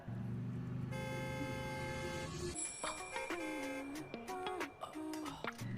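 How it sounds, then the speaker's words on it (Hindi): A cartoon vehicle horn honks in a sustained blare with musical, tonal layers, followed by a series of shorter, varied toots and beeps over busy animated background sound. "I love how you just honk"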